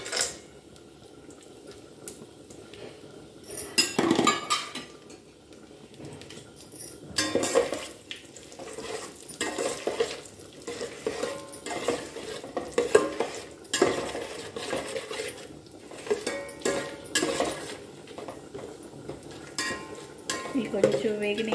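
Spices fry in hot oil for pudina rice while a spoon scrapes and knocks against the pan in repeated stirring strokes, with a soft sizzle underneath.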